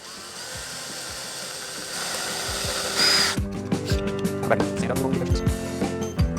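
A power drill bores holes in a guitar backplate, whining steadily at first and then breaking into rougher, uneven grinding as the bit bites. It sounds close and fairly loud.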